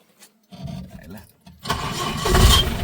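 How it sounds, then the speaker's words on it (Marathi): A diesel car engine cranks on its starter and catches, rising from quiet starts into a steady loud running roar by the end, with voices talking over it. "अरे बाप दोन स्टार्टर मारले"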